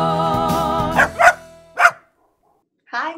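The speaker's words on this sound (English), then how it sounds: "this is my dog, Tug." A dog gives several short, close barks in quick succession, then falls silent for a moment before a final softer yip or whine.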